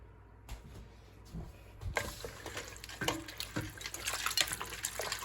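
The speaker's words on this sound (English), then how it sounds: "And then I just plunge it into that ice bath to stop the cooking process." Blanched mustard spinach plunged into an ice water bath gives close, lively splashing and sloshing of water that builds and continues steadily, with no talk.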